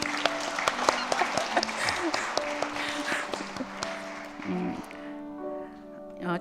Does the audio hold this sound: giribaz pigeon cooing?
no